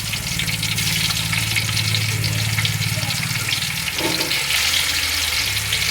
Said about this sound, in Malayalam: ഈ സമയത്ത് നമുക്ക് കുറച്ച് ഓയിൽ ഒഴിച്ച് കൊടുക്കണം. ചൂടായി വന്നിട്ട് തന്നെ നമുക്ക് ചിക്കൻ ഓരോന്നായിട്ട് ഇട്ട് കൊടുക്കാം